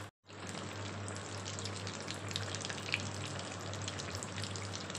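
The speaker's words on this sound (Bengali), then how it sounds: "এবার আমি মাছটাকে উল্টে পাল্টে ভেজে নেব।" Bhetki fish sizzles in hot oil in a continuous, dense crackle of popping bubbles, close and steady over a faint low hum, with no talking.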